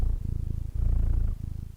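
A cat purrs close up in a low, steady, rhythmic rumble that pulses with its breathing, broken by a couple of brief pauses between breaths, with no voices.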